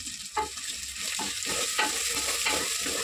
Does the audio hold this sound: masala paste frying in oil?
yes